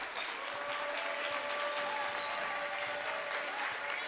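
The Duhawk crowd at a University of Dubuque men's basketball game against Loras applauds and cheers in a dense, steady wash that fills the whole stretch.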